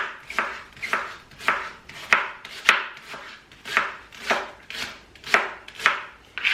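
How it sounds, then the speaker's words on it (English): Knife slicing leeks on a cutting board for wild garlic and leek kimchi: about a dozen evenly spaced, crisp cuts in a steady, close rhythm, with no voices. "Right, and I'll just slice these."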